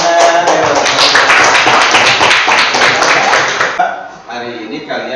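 A classroom of students claps rapidly and loudly in a rhythmic burst for several seconds, then it stops abruptly and a voice speaks afterward.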